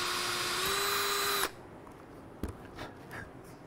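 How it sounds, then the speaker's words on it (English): A power drill bores into a boat deck with a loud, high whine for about a second and a half, then cuts off and leaves a few faint knocks and handling sounds. "we're going to drill through"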